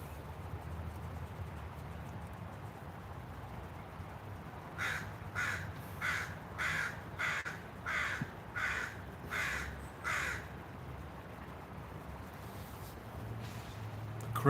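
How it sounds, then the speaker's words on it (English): A crow at a park caws in a rhythmic series of about ten calls in the middle, moderately distant over a quiet outdoor background hiss. "Crow seems to be..."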